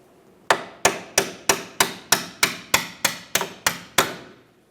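A steady series of eleven sharp metallic hammer blows drives a rear forward lower control arm bolt out on a 2012-2018 Nissan Altima, each strike ringing briefly, evenly spaced and close up.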